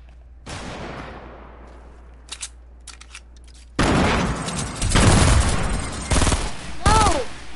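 A minigun fires in a video game, coming in bursts of dense, rapid shots after a quieter stretch, loud and close, with a few short voice shouts mixed in.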